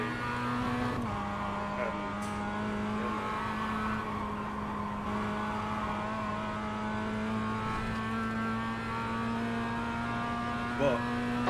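Mazda MX-5 race car engine in iRacing's Rookie Series at Summit Point, droning steadily at a constant pitch with a faint electrical hum beneath, a single brief word spoken over it.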